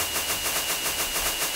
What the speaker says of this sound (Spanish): ¡Festival de cohetes!